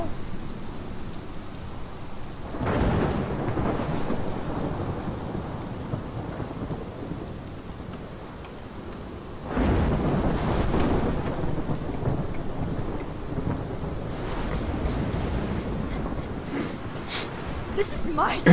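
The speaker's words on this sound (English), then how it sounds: "This is my storm." Thunderstorm with steady rain in Life is Strange, two heavy rolls of thunder booming over the constant hiss of rainfall.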